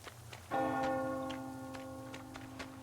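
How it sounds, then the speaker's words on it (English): A single bell strike rings out in the video game Metro Exodus, a clear metallic clang with a long, slowly fading tonal ring over quiet ambient background, moderately distant. "Do you hear that bell?"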